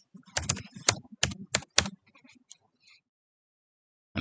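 Keys clatter on a computer keyboard as someone types a short word, a quick uneven run of close, crisp taps that stops after about two seconds, followed by silence.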